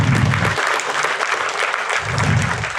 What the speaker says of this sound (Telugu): ఆయనకు ఒకసారి చప్పట్లు కొడదాం.